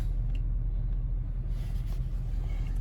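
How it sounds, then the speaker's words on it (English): An Infiniti FX50 on bald tires spins its front wheels in a snowstorm, giving a steady, low engine rumble that drones on without a break. "it's about to turn off my all-wheel drive system because I'm spinning my front axle and not going anywhere"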